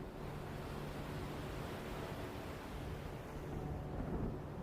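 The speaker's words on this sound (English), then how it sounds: "The waves still rise, but they cannot touch you." Stormy wind and waves make a continuous, even roar of rushing noise that stays steady and moderately loud, with no voices.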